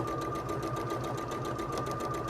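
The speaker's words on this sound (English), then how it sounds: "I am going to sew this at 1/4 inch." A sewing machine runs steadily, stitching a quarter-inch sashing seam on a t-shirt quilt. Its rapid, even needle chatter is close and continuous.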